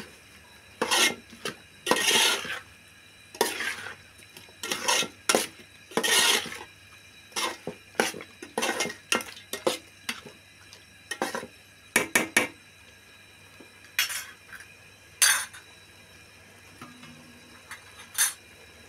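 Mutton being stirred in a pot with salt and turmeric, a close series of scraping, clanking spoon-on-metal strokes in an irregular rhythm, with no talking.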